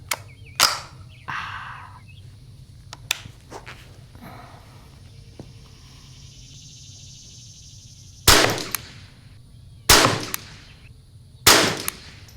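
Sharp, close reports from a Bergara BXR Carbon .22 rifle fired at an outdoor range. One early shot is followed by a quiet stretch, then three evenly spaced shots near the end over a steady low hum.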